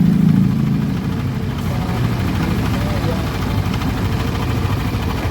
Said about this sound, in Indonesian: mesin sudah dinyalakan